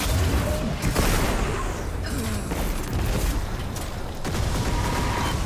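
Rockets firing and exploding in Destiny 2: a continuous roar of loud blasts and booming impacts, with sharper bursts near the start and again after the midpoint, over dense gameplay noise.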